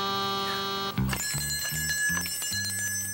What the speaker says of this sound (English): Did you hear bells, BJ?